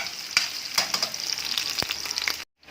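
Onion and garlic sizzling in a generous amount of oil for pork sinigang. The crackle is steady and close, with a few sharp pops and stirring scrapes, then it cuts off abruptly at the end.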